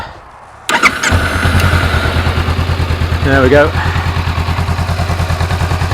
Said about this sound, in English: What does it sound like and what's it like to ride? I like it. It's a good bike to ride. Let's fire it up.